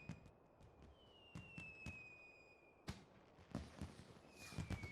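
Fireworks in the Final Fantasy XIV seasonal event The Rising, a series of sharp pops and crackles with whistling streaks, faint and spaced unevenly.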